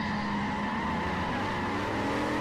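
A V8 Supercar in Forza Motorsport 4 brakes hard into a turn, its tires squealing and skidding in a sustained, loud screech over the engine drone, with no voices.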